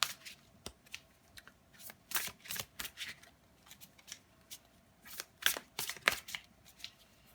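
Large XXL-format oracle cards are shuffled in repeated brisk bursts of riffling and slapping, close and crisp in a quiet room, with short pauses between bursts.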